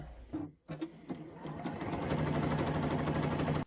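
A sewing machine runs a small zigzag stitch, starting with a few short bursts before settling into a fast, steady, close-up mechanical whir that stops abruptly at the end.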